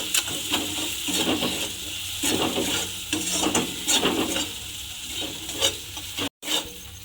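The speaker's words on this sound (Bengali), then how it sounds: "দিয়ে আবারও কিন্তু আমাকে মশলাটা একটু কষিয়ে নিতে হবে।" A spice paste with chili powder is sautéed in a pan for an eggplant dish, producing close scraping and stirring strokes over a soft sizzle, rhythmic and moderately loud, with one brief cut to silence near the end.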